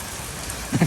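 Heavy rain pours down in a dense, steady hiss, with a couple of louder splashes near the end.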